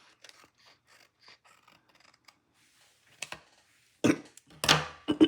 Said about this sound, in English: This edge I need to cut just a little tiny sliver off.